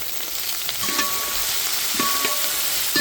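Small shallots frying in oil with crushed garlic for a village-style quail masala fry, a steady loud hiss with a few soft stirring knocks and faint clinks; no voices.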